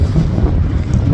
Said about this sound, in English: It's very windy today. It's really pretty, but it's very windy.